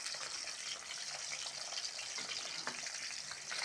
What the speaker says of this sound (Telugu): ఇప్పుడు ఇది నూనెలో వేపుకోవాలి కాకరకాయని